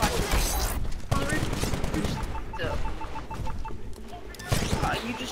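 Dense, rapid gunfire from a pistols-only Titanfall multiplayer match keeps up a near-constant crackle throughout, with a player talking over it.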